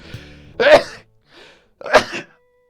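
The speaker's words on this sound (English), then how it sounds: "I just sneezed all over myself because I got video game controllers in my hands." Two sharp sneezes from a person gaming with controllers in hand, each a sudden loud burst with a short gap between, close to the microphone.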